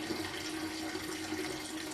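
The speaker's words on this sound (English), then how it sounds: "So I'm going to fill this bowl again and let it soak for another 10 minutes." Tap water pours steadily into a bowl to soak jackfruit, a continuous, even rushing that runs throughout, close and moderately quiet, with no talking.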